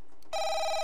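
A phone rings in the horror video game Dispatch: a sudden loud, steady electronic ring that cuts in after a brief quiet moment and keeps sounding alone to the end.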